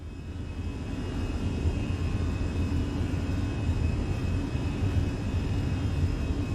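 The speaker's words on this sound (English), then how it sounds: "We are stable. And takeoff." Airbus A320 jet engines spooling at takeoff in Microsoft Flight Simulator, a steady broad roar that builds slightly and then holds loud and constant, with no talk over it.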